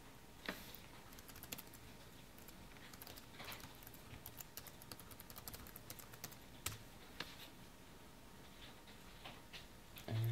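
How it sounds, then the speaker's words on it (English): Typing on a Cooper Infinite Executive universal keyboard folio for a tablet, light scattered key clicks at close range, quiet and irregular, with no voices. "And just type that in using the keyboard."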